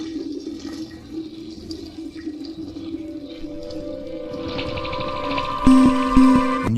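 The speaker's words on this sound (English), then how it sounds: "you can hear the sound of a toilet flushing" A toilet flushes inside a played-back recording, starting as a low watery rush, then swelling into a louder gurgling surge with a brief tonal whine near the end.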